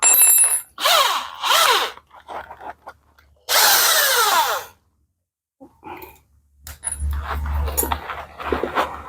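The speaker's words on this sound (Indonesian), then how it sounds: "Untuk menghaluskannya biasanya saya putar di mesin bor seperti ini." A power drill whines in short bursts, starting and stopping several times, with a high grinding edge as it spins a scooter CVT part for sanding.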